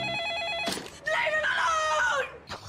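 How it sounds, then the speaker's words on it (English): A telephone rings in a film scene, a patterned electronic trill that runs briefly before a loud burst of harmonic, screaming-like sound and a short noise near the end; no speech. "The phone rings"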